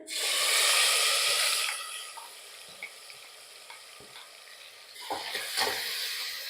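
A ground spice paste sizzles and is stirred in hot oil with cardamom, cloves and peppercorns for Karnataka-style methi rice. A loud frying hiss fades, then scraping stir strokes return with renewed sizzling, close and with no talk.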